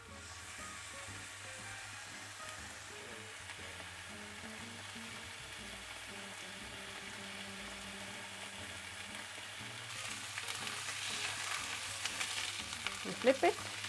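Steak sears in an oiled cast iron pan, a faint steady sizzle with a low background hum, growing louder and busier near the end as the meat shifts.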